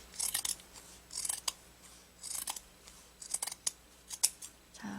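Fabric scissors snip close by while a mandarin-collar top is being sewn, several quick cutting strokes in uneven bursts with short pauses between them.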